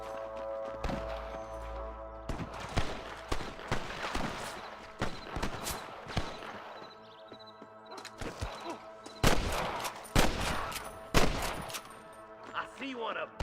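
Sniper gunfire in the video game Red Dead Redemption: repeated sharp rifle shots crack out at irregular intervals, some in quick clusters, amid game sounds and occasional hoofbeats.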